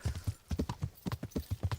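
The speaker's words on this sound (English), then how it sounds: "Actually should be extremely dangerous to run like this on a horse." Horse hooves galloping in the medieval game Kingdom Come: Deliverance, a fast rhythmic clip-clop of several quick thuds per second, close and clear with no talking over it.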